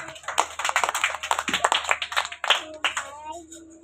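A group of children claps hands at a school teachers' day event, a dense burst of uneven claps close by, with children's voices calling out amid the applause.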